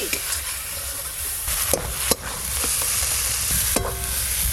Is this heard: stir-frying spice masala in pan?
yes